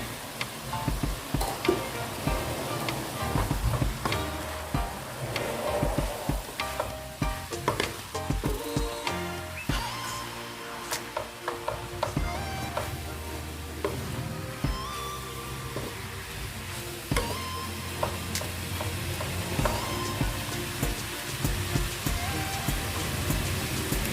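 Tofu sizzling in a hot pan with bean sprouts, a steady loud crackle of frying broken by frequent clicks and scrapes of a utensil stirring, with no talking.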